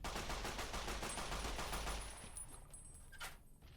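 Hip-fired gunshots in Fallout New Vegas, a dense rapid stream of loud close shots that fades into quieter game ambience near the end.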